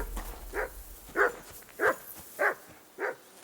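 Dog barking in the video game Kingdom Come Deliverance 2, five evenly spaced single barks at moderate distance over a quiet background.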